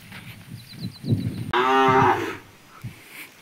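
An untethered calf, not tied out to graze, gives a single loud, drawn-out moo up close, with faint rustling and thuds before and after.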